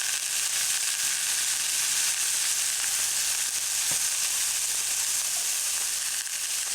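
Bacon pressed flat in a hot pan fries with a loud, steady, close sizzle that runs unbroken throughout, with only a faint tick partway through and no voices.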